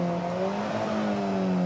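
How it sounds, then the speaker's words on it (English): A steady, gruff Alfa Romeo 4C engine drones at constant revs on a track, rough and coarse in tone, with no voices over it. "The engine's quite coarse. It's not a nice noise like the six-cylinder Porsche."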